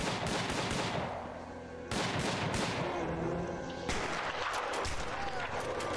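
Gunfire from a cutscene in the prison-building video game Prison Architect, loud sharp bursts repeating at about two-second intervals over a dense, busy background.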